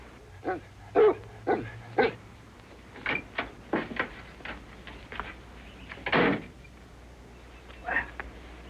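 Several dogs bark in short, irregular bursts spread across the stretch, with a few louder yelps standing out near the middle and end against a quiet background.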